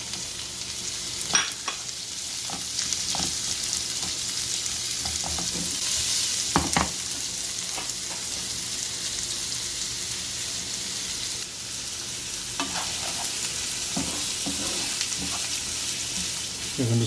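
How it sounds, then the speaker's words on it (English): Onions sauté in a pan for taco filling, crackling with a steady close sizzle punctuated by scattered taps and scrapes of stirring. "A little bit saute, and time to add the onions."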